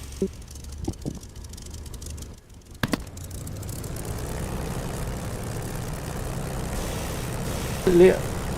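A light aircraft engine in a flight simulator holds a steady low drone around 1300 to 1400 rpm while the brake is applied and released. It runs continuously at moderate level, with brief clicks and a short tonal blip near the end.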